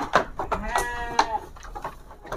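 Sheep bleating at close range on a sheep farm, several short wavering bleats overlapping over a couple of seconds.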